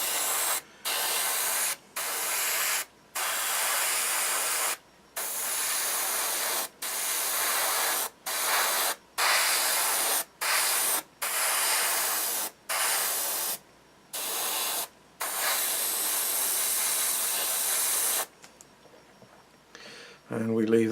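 An airbrush spraying paint onto a small painted figure: a steady loud hiss in repeated bursts of one to two seconds separated by brief pauses, running for about eighteen seconds before stopping.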